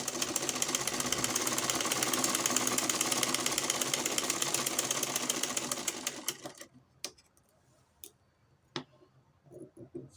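A sewing machine runs fast and steady for about six seconds, stitching fabric with a dense mechanical rattle, then stops, leaving a few scattered clicks and light handling knocks.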